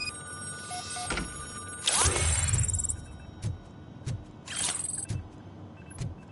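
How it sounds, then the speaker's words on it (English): A phone rings in the video game RoboCop Rogue City, two bright electronic ring bursts separated by a pause, mixed with thuds and game sounds at moderate loudness. "And the phone's ringing."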